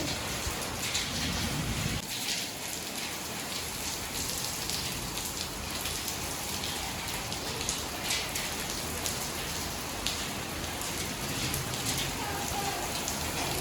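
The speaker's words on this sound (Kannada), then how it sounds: "ಸೊ ನೆಕ್ಸ್ಟ್ ಇನ್ನು ಸಿಕ್ಕಾಪಟ್ಟೆ ಮಳೆ" Heavy rain falls steadily and densely, a loud, continuous hiss of drops on surfaces with no break throughout.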